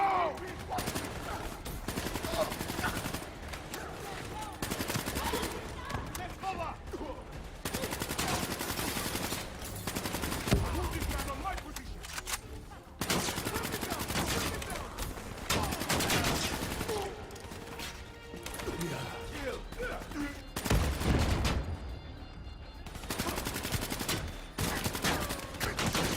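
Gunfire in Call of Duty: Black Ops III during a street battle in Cairo: sustained automatic rifle bursts and scattered single shots crackle almost continuously, loud and close, with occasional heavier booms and shouted voices mixed in.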